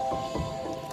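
Chicken curry with roasted ground coconut masala is stirred in a pot to mix it. A brief, close sequence of soft, wet squishes and squelches sounds alone, without talk.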